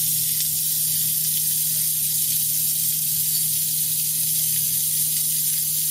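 Water sprays steadily while lab glassware is rinsed after a microwave aspirin synthesis, a continuous even hiss with a faint low hum underneath.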